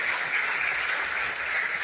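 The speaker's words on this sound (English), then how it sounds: "Everybody, please give a big round of applause." An audience at a formal event with President José Ramos Horta applauds, steady dense clapping throughout a short stretch.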